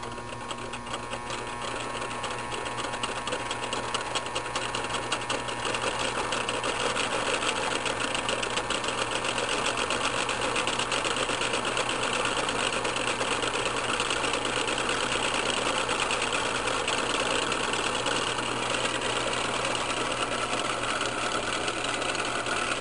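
A three-phase electric motor with a spiral pattern on its rotor starts up and runs steadily, a loud continuous hum and whir with a fine rapid buzz that holds constant throughout.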